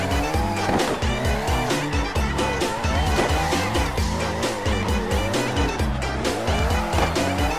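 Car drifting in the PC racing game CarX Drift Racing, with loud sustained tire squeal over a revving engine that rises and falls through the slides, dense and continuous throughout.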